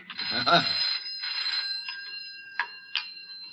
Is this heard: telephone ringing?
yes